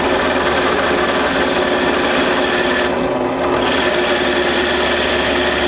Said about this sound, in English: This is a big Forstner bit. So I take little bits at a time.